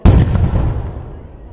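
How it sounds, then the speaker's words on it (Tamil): A festival fireworks shell bursts with a sharp, loud boom close by, followed by a long rumbling decay and crackle as it fades over about a second and a half. "மேலே போய் பயங்கரமாக வெடிக்குது"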